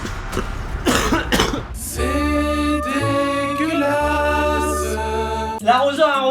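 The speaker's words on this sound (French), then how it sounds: "regardez maintenant c'est moi qui tousse" A person's harsh, close coughs come in a quick burst over the first two seconds, then give way to steady music.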